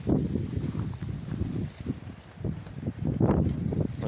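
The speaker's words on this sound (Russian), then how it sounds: "Ветер очень сильный." Strong wind gusts batter the microphone on an open summer pasture with livestock, a loud rumbling roar that surges and eases over a few seconds.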